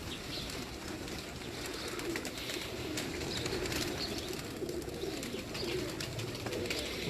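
Pigeons cooing in a loft alongside soft wing flutters and scattered chirps, a steady low murmur of many birds at moderate distance, no talk.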